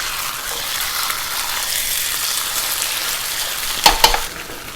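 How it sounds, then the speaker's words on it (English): Chicken sizzles steadily as it stir-fries in a hot pan for chicken karahi, with a couple of brief utensil clanks near the end. "we want to stir fry our chicken"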